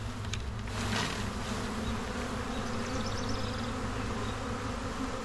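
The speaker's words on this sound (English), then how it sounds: "I'm just going to shake a few bees in here, and a lot of them are going to fly off." Honey bees buzz in a dense, continuous drone, close and steady throughout, with no talking.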